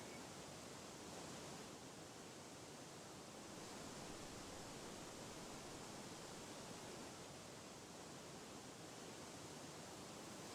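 A waterfall gives off a faint, steady rush of falling water, an even wash of noise with no breaks and no voices.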